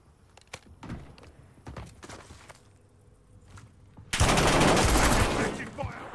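Gunfire in Call of Duty Warzone on Verdansk: scattered sharp shots and thumps at first, then a sudden loud, sustained burst of rapid automatic fire over the final two seconds.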